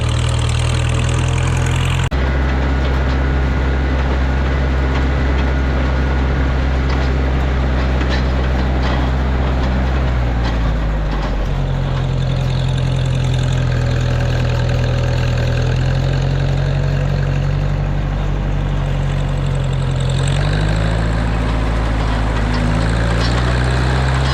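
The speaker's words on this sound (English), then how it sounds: "Started running the small square baler." A tractor runs a small square baler in a farm field, a loud, steady low engine drone close by, with shifts in pitch and load throughout and no speech.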